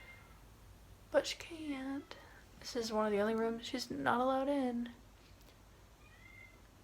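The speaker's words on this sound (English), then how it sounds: "You can probably hear her meowing at the door because she wants to come in" A cat meows repeatedly from behind a closed door, muffled and drawn-out, mixed in with someone talking nearby.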